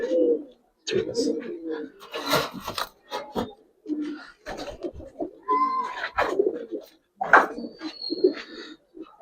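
Giribaz coloring pigeons coo repeatedly at close range, their soft, throaty calls arriving in uneven bursts with short quiet gaps between them.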